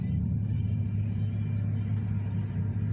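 A 2011 Chevrolet Silverado with its exhaust cutout open idles close by with a steady, deep rumble, low and throaty, holding constant throughout with faint voices underneath.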